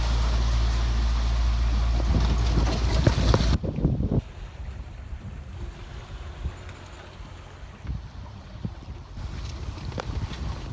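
Loud wind buffeting the microphone over a sailboat off Rhodes, then a quieter stretch of rushing water and creaking as the vessel rocks in the swell.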